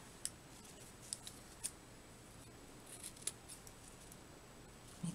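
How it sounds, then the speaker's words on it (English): Scissors snip around the edges of a handmade birthday card, a handful of faint, quiet clicks spaced irregularly over a low hiss, with no talking. "And then I'm going to cut the edges."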